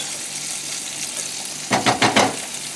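Halibut fillet crusted with dried onion sizzling in a frying pan, a steady hiss with a burst of louder crackling spits near the end, no voices.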